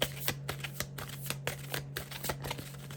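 A deck of oracle cards is shuffled up close, giving a quiet, steady rhythm of soft riffling slaps and clicks repeating every half second or so, with no talking.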